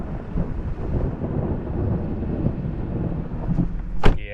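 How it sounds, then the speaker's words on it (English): Thunder rolls across a lake after a lightning strike: a long, low, rumbling roar mixed with wind buffeting, steady throughout, with a sharp knock near the end. "Saw lightning. We're gonna hear the thunder."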